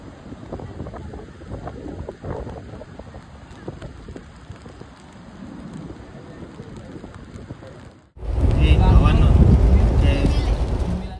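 Strong wind buffets the microphone on a beach at Aare, Ratnagiri, roaring loudly in the last few seconds after a stretch of gusty background noise.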